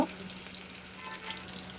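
Hilsa fish, flipped over, sizzling and frying in a hot pan in a home kitchen, a steady close crackle of oil running alone without talk.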